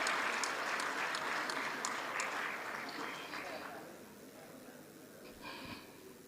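Crowd applause at a government award ceremony in Tanzania, loud at first and then thinning and fading to quiet, with a few scattered claps and some murmuring near the end.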